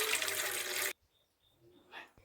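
Water poured into a home idli cooker on a stove gushes loudly and steadily for about a second, then cuts off abruptly, leaving quiet room sounds and a faint brief clatter.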